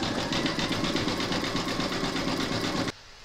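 A sewing machine zigzag-stitches around an appliqué flamingo, its needle chattering in a fast, even rhythm close by before stopping abruptly.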